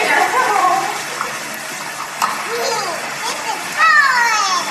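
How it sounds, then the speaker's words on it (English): A child pours water into a container in a classroom, a gushing, splashing pour heard under the chatter of children and an adult's voice. "now what will happen when you put the water in?"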